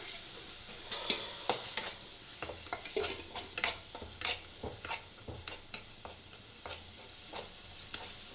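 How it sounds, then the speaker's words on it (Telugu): Masala cooks with onions in a pan for a prawn curry, a quiet sizzle under a steady run of spatula scrapes and clinks against the pan. "మసాలా కూడా పచ్చి వాసన స్మెల్ రాకుండా బాగా వేపుకోవాలి"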